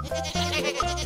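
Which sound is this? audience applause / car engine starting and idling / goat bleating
goat bleating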